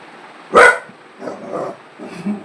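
One loud, sharp dog bark close by at an Indian animal shelter, followed by quieter low grumbling and softer vocal noises.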